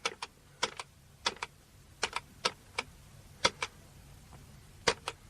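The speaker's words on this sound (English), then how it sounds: "punch the number out on this keyboard" Keys on a computer keyboard are punched one at a time in an uneven series of about fifteen crisp, close taps over a quiet hum, as a number is entered.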